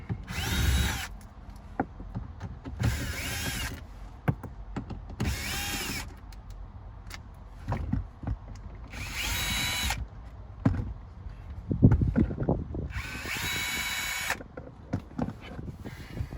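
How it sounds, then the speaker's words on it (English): Power drill with a Torx T25 bit backing out screws from the underside of an Alfa Romeo Stelvio glove box: several separate loud whirring bursts with short pauses between them, mixed with clicks and handling knocks, no speech. "you're gonna take your Torx T25 bit and chuck it into a drill or a ratchet or whatever"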